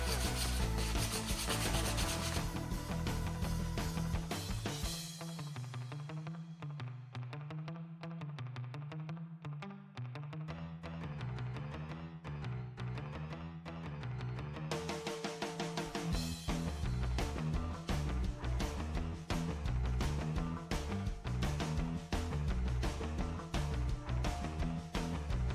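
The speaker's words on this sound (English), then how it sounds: "It's just going to be a light scuff with the 1500, just to get some grip for the next layer to get on there" Light scuff sanding of a coated wooden steering wheel with 1500-grit paper, heard as close, continuous rhythmic rubbing strokes with no talk.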